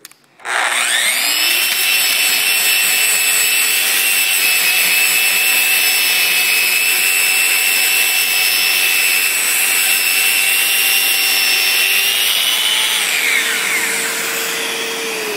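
A Festool RO150 random orbital sander connected to a CT26 dust extractor runs steadily for about twelve seconds, a loud continuous whine with a vacuum roar, then winds down near the end.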